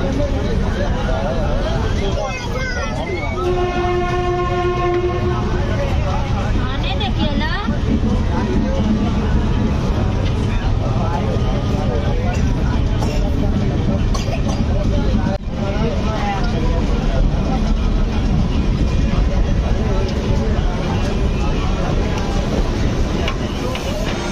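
The Gorakhpur–Mumbai superfast express runs through an Indian railway station without stopping, a loud, continuous rumbling roar that fills the whole stretch while crowd chatter carries on over it.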